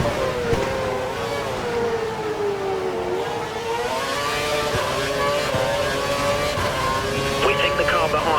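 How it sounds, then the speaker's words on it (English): A Formula 1 car engine in the F1 2012 racing game, driven at the Brazilian Grand Prix, holds a loud steady high-pitched wail with slowly rising and falling revs. Voices talk over the constant engine drone. "We think the car behind is running on full revs."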